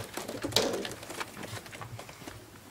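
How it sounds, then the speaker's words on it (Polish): Several racing pigeons coo softly and steadily nearby in a loft during basketing, with rustling in the background and no talking. "Gołąb."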